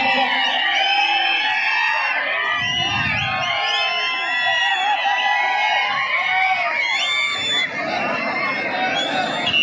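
A dense, loud crowd cheers and shouts continuously at a kabaddi semi-final between Belagavi district and Baramati, with a commentator talking over the din.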